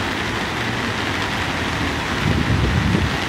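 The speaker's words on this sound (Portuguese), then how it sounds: "É muita chuva aqui no Nordeste." Heavy rain falling in the Nordeste region of Brazil during flooding, heard as a steady, dense broadband wash with no voices, growing slightly louder and rougher toward the end.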